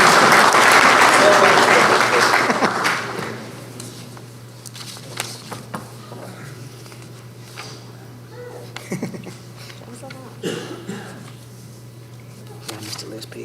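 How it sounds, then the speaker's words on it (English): Audience applause at a township special council meeting, a short burst of clapping that fades within a few seconds, followed by scattered footsteps, shuffling and faint murmuring in the room. "Now, I think I should get an applause for reading that whole thing."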